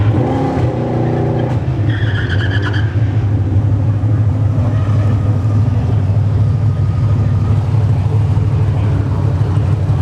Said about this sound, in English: All right, we got a Honda Civic.